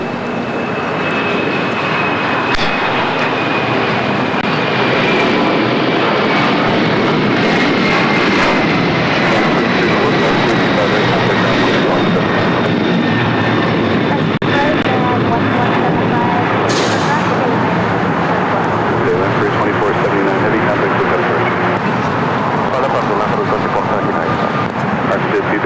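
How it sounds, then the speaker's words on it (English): A LATAM Airlines Boeing 767 bound for Lima taking off from LAX: a loud, continuous jet engine roar filling the whole stretch, close by and rising with a faint whine, with talk mixed in beneath. "LATAM Airlines 2479 taking off to Lima, Peru."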